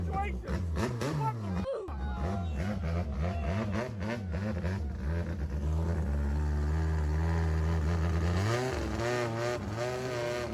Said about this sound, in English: Look at that motor.